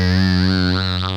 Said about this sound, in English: But I'll add a phase shifter